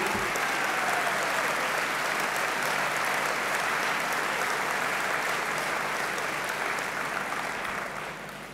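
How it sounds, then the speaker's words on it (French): Sustained, dense applause from a large audience at a cdH party speech, broad and even throughout before tapering slightly at the end. "Vous pouvez applaudir les femmes en même temps"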